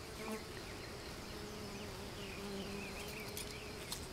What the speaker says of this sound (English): Never seen so many bees.